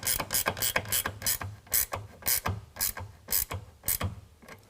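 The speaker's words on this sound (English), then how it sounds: "we're going to tighten that up with a 9/16" A 9/16 ratchet tightens the rail bolt of a Retrax PRO XR retractable tonneau cover on a 2022 Ford Maverick, giving close, repeated bursts of rapid pawl clicking in a steady back-and-forth rhythm, with no talking.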